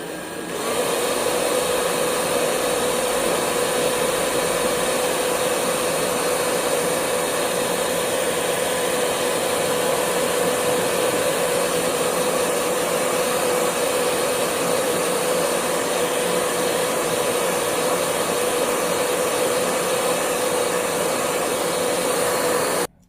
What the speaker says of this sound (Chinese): 那么现在我们就可以把它吹干